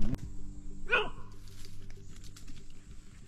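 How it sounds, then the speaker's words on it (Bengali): Dogs on a trekking path through Dzukou Valley in Nagaland, with one sharp bark near the start followed by faint whimpers and yips, fairly close in otherwise quiet surroundings. "এইখানে কুকুররা কি করতেছে বুঝতেছি না।"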